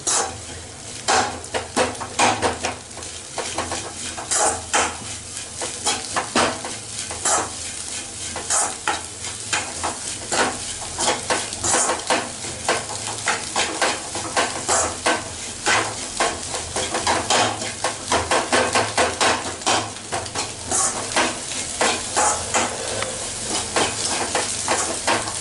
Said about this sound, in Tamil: இதை நல்லா ஒன்று போல கிண்டிக்கிட்டே இருங்க.